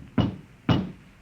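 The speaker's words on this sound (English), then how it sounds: "There was a knock on the door." Two heavy knocks on a door, a radio drama sound effect, land about half a second apart, each a dull, close thud that fades quickly into quiet.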